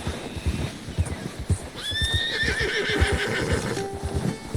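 A horse in Red Dead Redemption 2 gives a loud, clear whinny that rises and trails off, with steady clip-clop hoofbeats running underneath in a snowy setting.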